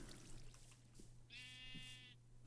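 A sheep in the Minecraft video game gives a single close, clear bleat with a wavering, buzzy quality over a steady low background hum.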